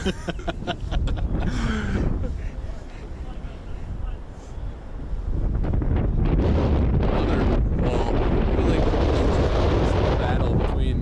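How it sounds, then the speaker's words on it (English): Heavy wind buffets an outdoor microphone at an evening MDV Cup quarterfinal match, roaring loud and steady throughout and swelling stronger in the second half, with a commentator talking over it. "He knows the wind's going to be coming against it."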